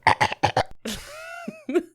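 Four harsh coughs come in quick succession right at the microphone, loud and close, followed by a drawn-out voiced groan and a final throaty grunt.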